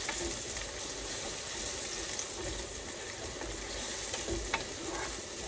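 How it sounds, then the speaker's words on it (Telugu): Ginger garlic paste frying in a pan, a dense continuous sizzle that holds steady and fairly loud, with a few faint stirring clicks. "ఇప్పుడు వేసుకున్న తర్వాత దాన్ని చక్కగా రా ఫ్లేవర్ పోయేంత వరకు ఫ్రై చేసుకోండి"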